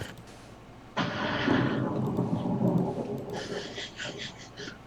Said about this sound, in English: Did you hear the thunder, Mariah?